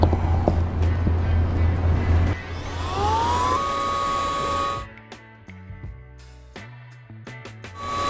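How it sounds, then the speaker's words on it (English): An electric pump runs loudly in reverse, deflating a chamber of a GoSun Elcat inflatable solar electric boat; a steady whine shifts upward in pitch as the air empties, then the tone changes and it winds down with clicks. "you can hear the pump change its tone"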